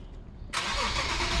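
A Nissan 370Z engine cranks and fires at once, jumping from near silence into a loud, steady idle that holds to the end.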